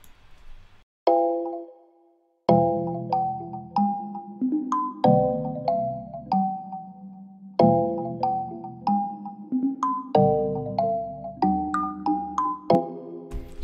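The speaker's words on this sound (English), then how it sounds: "For like the hook, I took out some notes from the main chords," Ambient beat hook melody built in FL Studio from notes of the main chords: bell-like plucked synth notes in a repeating pattern, each decaying quickly, after a short quiet intro.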